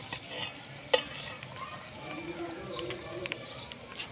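Garlic fries in oil for homemade infused oil, a close, steady crackling sizzle with a brief metallic clink of a utensil near the start and soft stirring throughout.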